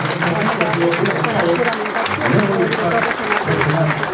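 A packed crowd at a regional government ceremony in Ica gives sustained, loud applause, with a thick continuous roar of clapping and faint voices mixed beneath.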